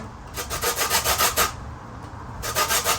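Lemon zest is grated off the yellow peel, a close, steady rasping scrape that comes in quick back-and-forth strokes for about a second and a half, pauses briefly, then resumes.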